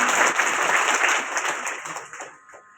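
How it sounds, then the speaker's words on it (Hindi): Audience applause at a birthday celebration for Mayawati in Bhind: dense clapping from a crowd, close and lively, thinning and fading out over a few seconds. "आप एक बार उनका भी सम्मान जोरदार तालियों के साथ कीजिए"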